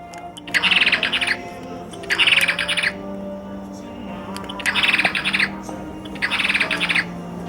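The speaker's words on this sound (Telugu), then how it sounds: "దాంట్లో ప్రతి ఒక్క పక్షిలో ఒక్కొక్క సౌండ్ అవుట్పుట్ మనకు వస్తుంది" Electronic toy bird chirps in four separate bursts of rapid, bright tweeting, each about a second long, with quiet gaps between them.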